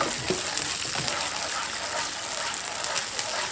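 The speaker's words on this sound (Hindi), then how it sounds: "तो 1 मिनट या 2 मिनट आपने इसको ऐसे फ्राई करना है।" Chicken changezi masala sizzling in a pan, a steady, loud broadband fry hiss that runs continuously with small crackles throughout, no voices over it.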